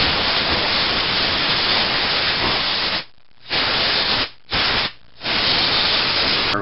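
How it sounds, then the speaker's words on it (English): Compressed air blasts down through the burner ribbons of a tankless water heater, a loud broad hiss that holds for about three seconds and then comes in three more bursts split by short pauses. "Use compressed air and blow back down through all these burner ribbons."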